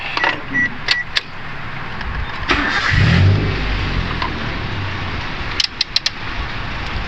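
A Perodua Myvi 1.3 is started. A few clicks and a key rattle come first, then the engine cranks, catches and settles into a close, steady idle.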